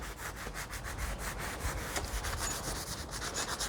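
Sandpaper rubs back and forth over a wooden table in quick, rhythmic strokes, close and steady, with no talking.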